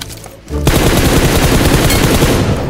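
Sustained machine gun fire in PUBG Mobile on the Severny map erupts suddenly after a brief quiet moment, a loud, rapid continuous burst of close shots that runs to the end.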